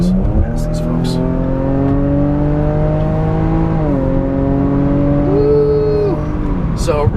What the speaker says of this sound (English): It just has a very, very vocal exhaust note and a sort of mechanical sounding induction howl.